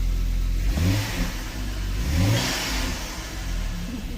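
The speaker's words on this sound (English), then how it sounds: "when the engine gets warm, it starts bogging out and lose timing" A warm BMW N55 3.0-litre engine revs twice in close succession and bogs out with a rough, faltering note, then settles back toward idle; loud and close, with no talking.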